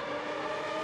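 A Superleague Formula race car crosses the start-finish line, a sustained high-pitched engine scream held steady and loud through a brief burst without voices.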